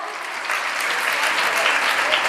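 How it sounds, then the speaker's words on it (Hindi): A school audience at an investiture and award ceremony applauds, steady dense clapping that swells slightly after the first half second and holds evenly throughout. "तालियां बजा दीजिए बेटा"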